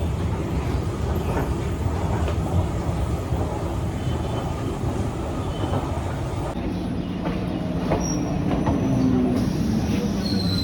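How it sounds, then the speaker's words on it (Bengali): A Krishnanagar–Sealdah local passenger train rumbles steadily into Ranaghat station nearby, with rolling wheel noise and a faint high squeal near the end as it comes in. "চলে এসেছে আমাদের ট্রেন, কৃষ্ণনগর শিয়ালদা লোকাল"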